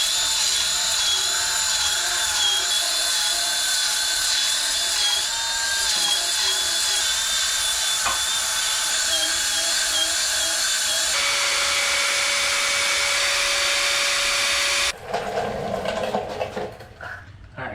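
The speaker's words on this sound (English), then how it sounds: "strip off all the paint, get down to bare metal on both axle tube ends" Power tool stripping paint to bare metal on Ford 8.8 rear axle tube ends, a loud continuous high whine with shifting pitch, abruptly cutting off near the end into rougher, lower grinding.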